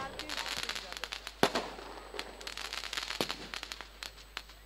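Fireworks and firecrackers burst at a cricket match ground, a dense run of sharp cracks and pops with one louder bang, crackling continuously under an excited commentator's voice.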